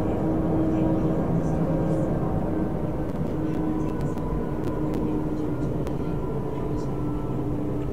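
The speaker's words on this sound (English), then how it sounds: "I'm literally flying a ship into the pad right now." A spacecraft in Star Citizen flies in toward a landing pad, a steady low engine rumble and broad roar holding at constant loudness throughout, with faint higher tonal hums layered above.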